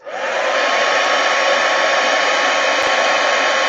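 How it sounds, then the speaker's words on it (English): A plugged-in heat gun blows steadily while drying artwork, a loud close continuous whoosh that starts abruptly and holds an even roar. "Okay, we plugged in my heat gun."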